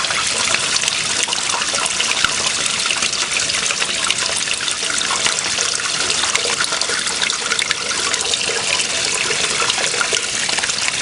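Water trickling in a stream near a ram pump in a park, a steady broadband rushing and gurgling flow, close and continuous with no talking.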